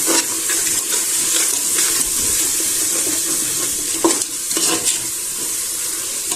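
Two spoons of yogurt are stirred into a sizzling biryani masala for chicken dum biryani, with continuous frying hiss and wet stirring, plus a few louder scrapes near the end.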